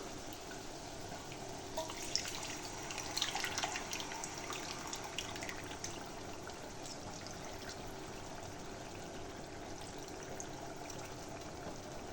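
Tamarind-soaked water is poured into a pot of Tamil dry fish curry, a steady soft stream of liquid with faint splashes and drips over a quiet kitchen hum.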